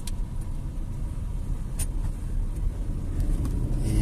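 A car driving slowly in city traffic during a driving lesson, downshifting as it rolls along, with a steady close engine hum and road rumble that carries on without a break.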